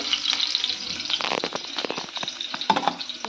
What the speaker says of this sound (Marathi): तर इथे मला जी हिरवी मिरची आहे ती छान तळू देते.